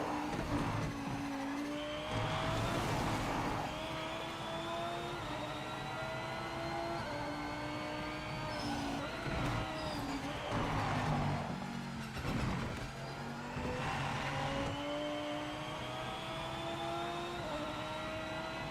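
A Lamborghini GT3 race car in the Project Motor Racing game roars through its gears, with rising engine pitch, sharp upshifts and brief lifts repeating over and over, loud and close throughout.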